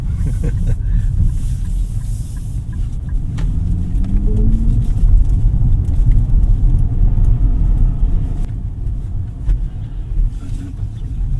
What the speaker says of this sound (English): So that was a quick drive off the Z.